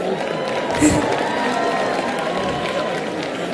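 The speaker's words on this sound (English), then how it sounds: "I think we start to give a big round of applause" A large crowd applauds and cheers at the Miss World grand final in Hyderabad, a continuous wash of clapping and shouts filling the hall at a steady loud level.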